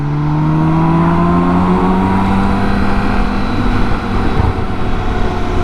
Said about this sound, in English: luckily Sam's got enough of an engine to get us past quickly